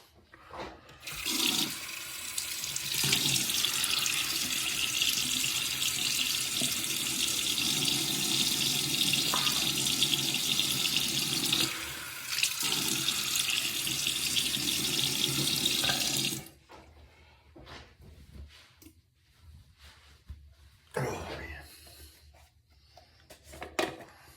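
Tap water runs hard into a sink for about fifteen seconds as a face is wetted before shaving, loud and steady and close by, then cuts off, leaving quieter splashes and rubbing.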